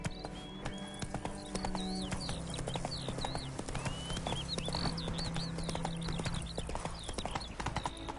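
Roach the horse trotting in The Witcher 3, steady close clip-clop of hooves throughout, with chirping birds and a faint low ambient drone behind.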